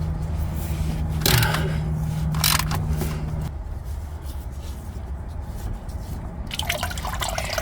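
Engine oil draining from a third-generation Chevrolet Camaro during an oil and filter change, a steady close trickle and drip of liquid lasting several seconds with a few brighter splashy bursts.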